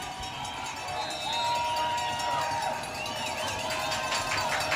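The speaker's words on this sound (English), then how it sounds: "The crowd is screaming." Football stadium crowd roars during an overtime field goal attempt, a sustained loud wall of screaming voices with piercing shouts and whistles layered on top.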